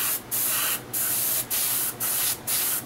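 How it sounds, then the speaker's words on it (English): An airbrush sprays Duracoat finish onto gun parts in five even bursts of hissing spray separated by short pauses, close and steady. "I love this airbrush setup I got."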